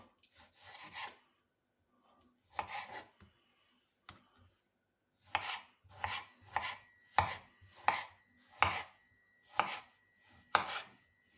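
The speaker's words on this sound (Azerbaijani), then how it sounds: "Pomidorumuzu isə Belə bu şəkildə, yəni dilim-dilim doğrayırıq." A knife slices a tomato on a board, making crisp close chops: a few isolated cuts, then a quicker, even run of about ten strokes in a quiet room with no talking.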